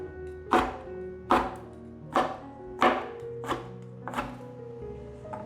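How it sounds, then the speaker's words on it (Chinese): A knife dicing eggplant into small cubes on a cutting board, six distinct chops at a steady, unhurried rhythm, close and clear with no voices. "把茄子切成小丁"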